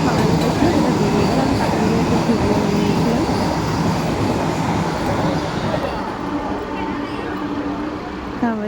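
A passenger train running on the Howrah to Mecheda line, heard from inside the carriage: a loud, steady rumble and clatter of wheels on track, with voices murmuring faintly underneath.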